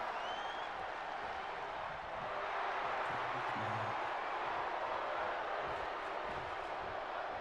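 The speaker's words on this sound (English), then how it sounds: "The crowd are chanting, fight forever." A wrestling arena crowd in the WWE 2K23 video game keeps up a steady, distant roar of chanting and cheering that runs unbroken throughout.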